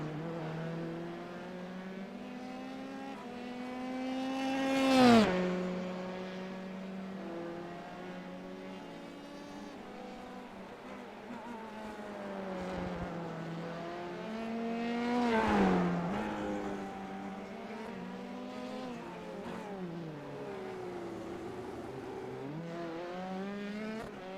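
Formula 3 race cars on the Long Beach street circuit in a racing video game, engines droning steadily with rising and falling pitch as two loud revving passes sweep close by, the engine note continuous throughout with no talk.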